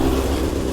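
A BMW S1000RR sport motorcycle engine idles steadily after start-up, a close, loud mechanical rumble with a constant throb and no talk over it.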